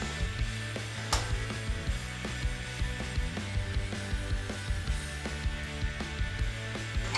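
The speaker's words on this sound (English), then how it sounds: "I like to tighten everything up and then go back and tighten it again just to make sure" Ratchet wrench tightening the blade bolt on a SkilSaw compound miter saw, a steady run of close, rhythmic clicking with no voices.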